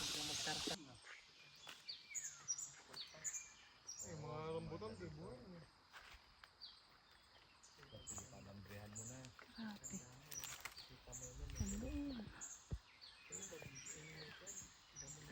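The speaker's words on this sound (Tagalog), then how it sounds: "May kasama pang huni ng mga ibon" Faint, repeated bird chirps in the background outdoors on a farm in Mindoro, mostly under people talking nearby, with some light footsteps.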